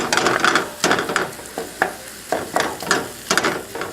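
Meat for a bacon cheeseburger dish sizzles in a skillet while a utensil stirs it, giving close, rhythmic scraping strokes over a steady frying hiss.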